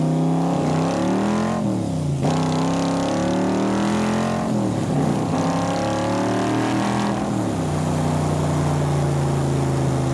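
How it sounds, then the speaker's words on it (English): A 1965 Backdraft Cobra with a Roush 427 V8 roars up through the revs repeatedly, tires breaking loose, pitch climbing then dropping at each gear change, loud and close with no talking. "you can hear it braking loose as we're accelerating through the gears"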